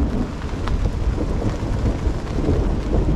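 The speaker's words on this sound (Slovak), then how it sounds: "A taký dážď, lejak. A asi aj počujete. Došla taká búrka" A thunderstorm with a heavy downpour roars steadily, and a low rumble of thunder rolls beneath dense rain noise at a campsite on a fishing competition shore.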